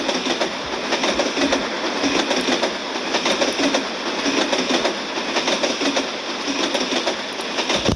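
A train in the game Truck Simulator Ultimate rumbles past with a steady, rhythmic clatter of wheels on rails, loud and continuous throughout with no voices.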